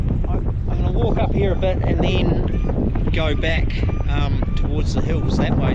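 Strong wind buffets the microphone on a New Zealand riverbank during fly fishing, a constant loud roar and rumble running through the whole stretch while someone talks over it.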